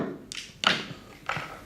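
A hand-sewing needle being banged through very old, heavy sail cloth without a sailmaker's palm: three sharp, close thunks spaced unevenly, each with a brief dull knock after.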